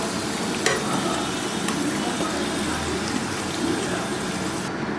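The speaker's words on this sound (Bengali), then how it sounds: "আমার আলুটা খুব সুন্দরভাবে ভেজে নেওয়া হয়ে গেছে। এটা উঠিয়ে নিচ্ছি।" Potatoes frying in hot oil in a pan sizzle with a steady, bright crackle as they are stirred and lifted out, with a few sharper clicks from a utensil.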